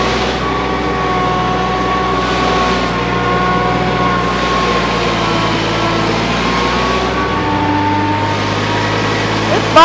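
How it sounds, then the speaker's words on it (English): A tractor engine lugs under load while pulling a plow set too deep in the soil, giving a steady close droning rumble with a deeper, strained shift in pitch toward the end, and no talk over it. "It's bogging the tractor down a little bit"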